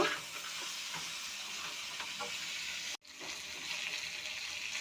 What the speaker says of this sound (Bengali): লবণ হলুদের গুঁড়ো সবজিটা আমি ভালো করে ভেজে নেব